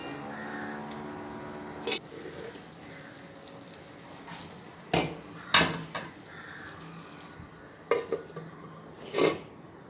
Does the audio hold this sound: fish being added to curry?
yes